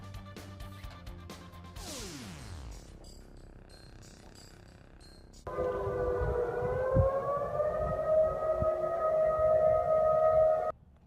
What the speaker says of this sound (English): Sirens in Kodiak, Alaska this morning that was signaling a tsunami warning